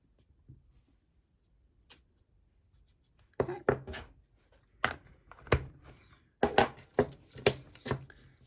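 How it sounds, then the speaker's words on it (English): Scissors snipping the edges off a stamped paper card, a series of crisp close cuts coming in uneven clusters after a quiet start. "And again, just snip off the edges."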